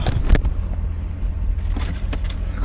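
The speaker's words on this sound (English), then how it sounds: "Let you listen to the engine." A 2008 Chevrolet Corvette C6 with an LS3 V8 idles steadily nearby, a low, dense rumble with a few brief louder bumps and no talking.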